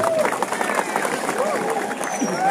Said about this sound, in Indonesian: Tepuk tangan dumun mantuk generasi muda.